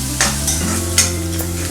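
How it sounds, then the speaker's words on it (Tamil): Onions and green chillies sautéing in a pan, with a steady sizzle and a few brief scraping stirs, close and fairly loud, no talk. "வெங்காயம் ஒரு லைட் கோல்டன் ப்ரௌன் கலர் வர வரைக்கும் நல்லா சாட் பண்ணிக்கோங்க."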